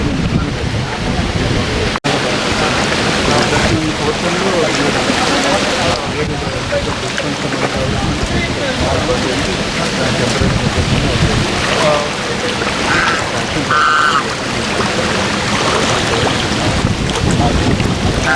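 Dense, steady rush of heavy rain pounding down, with gusts of wind buffeting the microphone throughout and no clear voices.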